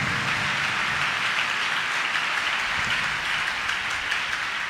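A church congregation claps to praise the Lord during a Sunday service, a steady dense patter of many hands filling the room without clear breaks, with no speech over it.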